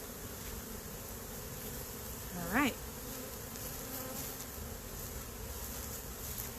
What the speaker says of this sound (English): you've got some emerging bees